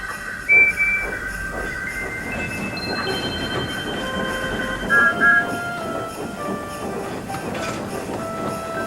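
Cartoon train engines rumble along the rails with metallic clanking, squealing wheels and a few short whistle-like tones, steady and fairly close throughout.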